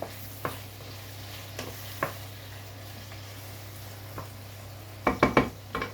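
Food sizzles softly and steadily in a pan for fish with attiéké, with a low hum beneath and a few sharp utensil clinks and scrapes, the last ones clustered near the end.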